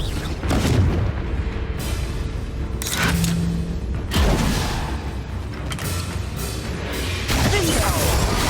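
Confringo fire spells from Hogwarts Legacy burst in repeated heavy booms, several explosive blasts rolling out over a dense game soundscape, loud and close, with a player's voice casting among them.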